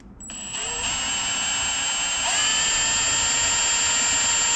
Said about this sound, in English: Drill a hole, put this screw through it, and then you can screw the handle on.